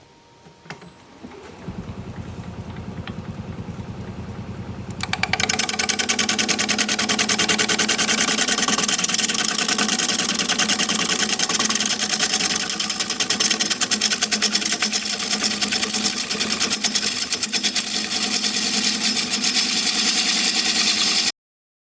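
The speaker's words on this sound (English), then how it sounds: "I'm gonna go sharpen up." A woodturning tool sharpened on a motor-driven grinder after turning hardwood: a quiet lead-in, then the machine spins up around five seconds and keeps up a steady, loud, continuous whine and grinding hiss with no talk.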